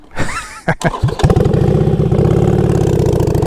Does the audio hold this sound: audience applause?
no